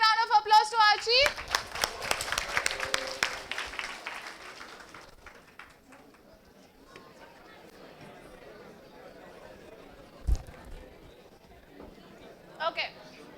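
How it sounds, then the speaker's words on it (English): Applause at a workshop for a child volunteer rises briefly in the first few seconds as scattered clapping, then fades into murmuring chatter and moving about, with occasional louder knocks. "Can we give a big round of applause to Archie?"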